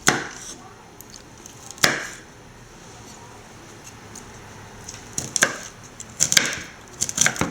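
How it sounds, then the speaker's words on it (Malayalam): Broccoli stems chopped by hand with a kitchen knife for an egg thoran, a few sharp, isolated knife strikes on a cutting board separated by quiet gaps, then a quicker cluster of chops near the end. "ഇത് പൊടിയായിട്ട് നമുക്ക് കൈകൊണ്ട് തന്നെ അരിയാൻ പറ്റും."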